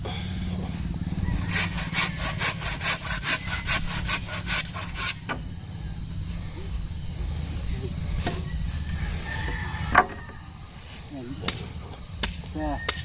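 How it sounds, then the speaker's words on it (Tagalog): A hand saw rasps through wood in quick, steady back-and-forth strokes, then stops; a few knocks and faint voices follow in the background. "Talas ng lagari."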